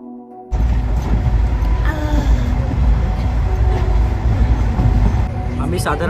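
A passenger train rumbles steadily along the rails past a station without stopping, a loud continuous roar with rattling carriages heard from inside.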